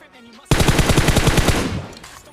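Automatic gunfire from PUBG Mobile sounds in a short, loud burst of rapid evenly spaced shots lasting about a second. It then cuts off into quiet game ambience.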